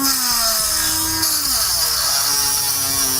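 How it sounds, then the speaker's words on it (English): A Dremel rotary tool grinds through the bumper flange on the passenger side of a 2015 Lincoln MKX. The cut is a loud, close, continuous high whine with shifting pitch and no speech. "We're just going to cut that off with our Dremel."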